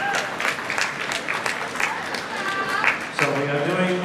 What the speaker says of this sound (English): Yes, they can have a round of applause.